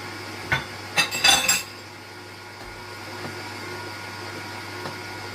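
Banana tray cake batter being mixed in a bowl, a few sharp clinks and clatters of utensil against the bowl early on, then a quiet steady hum.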